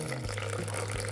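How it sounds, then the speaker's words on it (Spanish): Water pours steadily into a blender holding powdered milk while making Colombian avena tolimense, a continuous close splashing trickle running through the brief moment with no voices. "vamos a agregar un poquito de agua"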